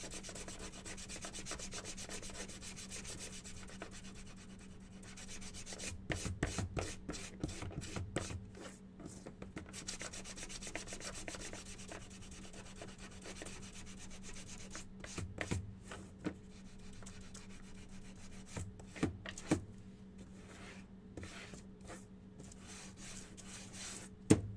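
Sandpaper rubs over a small wooden stand from a bear-and-beehive craft kit in quick scratchy strokes, with bursts of faster scrubbing between quieter pauses, close up and without talk.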